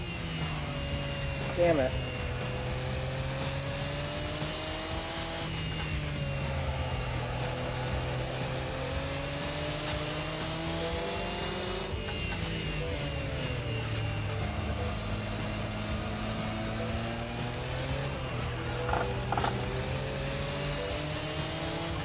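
Race car engine in Project Cars 2 Group A racing, droning steadily with rising and falling pitch through the whole stretch, gear changes and a brief tire squeal, under frequent speech.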